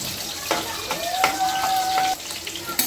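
Onions dropped into hot oil with sputtered mustard seeds in a pan while making sambar, a steady close sizzle and crackle running throughout with a brief tonal whine partway.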